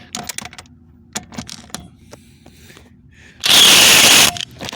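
A Seesii WH710 cordless impact wrench hammers at a rusted lug nut in a loud, dense burst of about a second, following scattered clicks and clatter as the socket is fitted.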